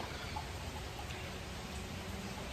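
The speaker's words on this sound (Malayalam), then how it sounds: "നല്ല മഴ ഉണ്ട് പുറത്തിപ്പോൾ" Steady, dense rain hisses outside without a break, a broad even wash of noise at moderate distance, with no voices.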